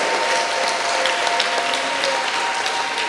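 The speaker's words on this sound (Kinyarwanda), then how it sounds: "Duhe Imana amashyi menshi cyane kuko ari Imana itanga." A church congregation applauds God during a sermon, a steady, dense wash of many hands clapping throughout, loud and close, with faint voices underneath.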